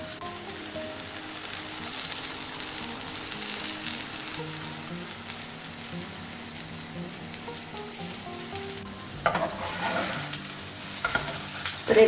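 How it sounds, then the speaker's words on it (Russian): Thin flatbread fries in a pan for a Turkish-style breakfast, giving a soft, steady sizzle with light crackling and a few scraping touches near the end, with no talking. "Нужна где-то минута, чтобы он зажарился"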